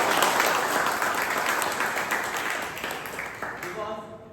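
Members at a Toastmasters club meeting give a hearty round of applause and cheers, loud at first and gradually tapering off toward the end.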